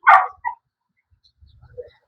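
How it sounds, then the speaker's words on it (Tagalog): Dogs bark close by, one strong bark followed by a shorter second one, then quiet with faint low rumbling. "maraming aso"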